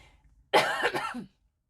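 A single harsh cough, close and fairly loud, breaking out of near silence and trailing off after about a second.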